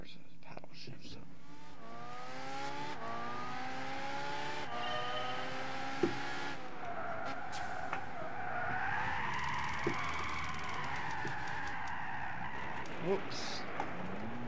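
A Ferrari in Gran Turismo 6 during a drift trial, with an engine revving up through gears and long wavering tire squeals as the car slides, while a person talks over it.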